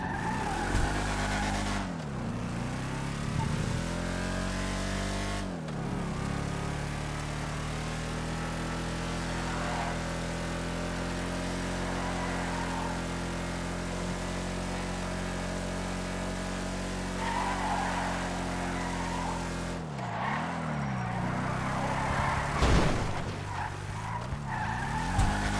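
A muscle car in a GTA video game revs and races along, its engine droning steadily while tires squeal and skid in several sharp bursts near the start and again toward the end.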